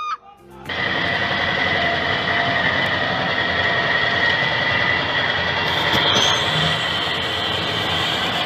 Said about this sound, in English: a rare Zephyr locotractor was brought out to switch coaches, but its job ended before it even began